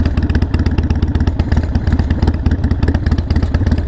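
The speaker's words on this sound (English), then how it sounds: "I can't tell where that rattling's coming from. Is it the exhaust?" Harley-Davidson Sportster 48 motorcycle idling loudly close by, its exhaust giving off a steady rapid rattle and thumping pulse throughout.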